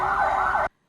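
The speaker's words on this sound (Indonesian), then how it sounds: "suara sirine peringatan tanda bahaya tsunami dibunyikan" A tsunami warning siren in Lombok, West Nusa Tenggara, sounds during an earthquake: a loud, wavering electronic tone that holds for under a second before cutting off abruptly into silence.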